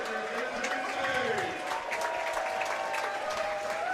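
Sustained applause from a crowd at a summer collegiate baseball game between the Washington A's and DubSea Fish Sticks at a ballpark, steady clapping and cheering throughout, with an announcer's voice talking over it.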